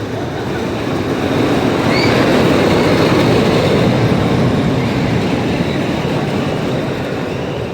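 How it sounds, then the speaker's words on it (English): A short roller coaster train at Duinrell theme park in the Netherlands rolls past with a steady rumbling, clattering roar that stays loud and continuous throughout, with no voices. "Quite a short train on that coaster there"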